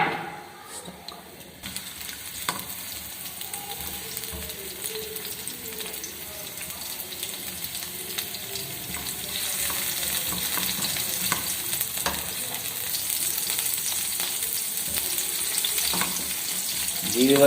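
Green chilies sizzle and fry in a pan for an egg dish, with a steady crackling hiss and occasional scraping stirs close by, the frying growing slightly louder toward the end, no talking.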